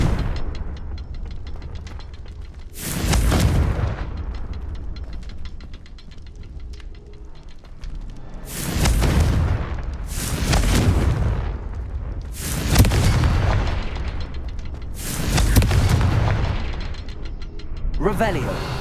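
Confringo fire spells cast in Hogwarts Legacy land as a run of about six loud, booming blasts at irregular intervals, each a sharp burst with a short crackling tail over steady game ambience.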